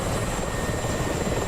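A Ka-50 helicopter in a flight combat game flies overhead with a loud, steady rotor and engine roar that fills the whole short moment, with no talking.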